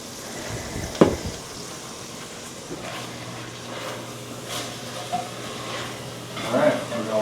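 Lots of garlic sizzles and fries in a pan, a steady close hiss with occasional stirring clatter and small pops running throughout.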